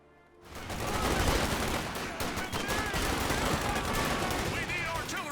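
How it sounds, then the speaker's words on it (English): Dense, continuous gunfire and rapid machine gun bursts in the Company of Heroes 2 Ardennes Assault campaign, a loud sustained battle din with crackling shots. "Our fighting position is sustaining fire."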